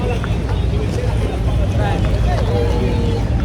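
Steady low rumble of motorboat engines and water churning as boats pass along the water in Venice, constant and fairly loud, with a faint murmur of distant voices underneath.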